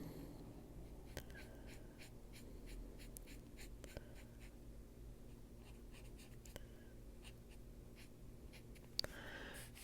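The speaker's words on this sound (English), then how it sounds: "Okay, we're going to start off with a Tombow marker. This is 992." A Tombow 992 marker scratches and squeaks quietly across paper in short repeated strokes, close and faint against a low background hum.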